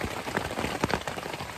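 Rain falls steadily on a camping tent and its tarp in the North Georgia woods, a dense, close patter with no voices.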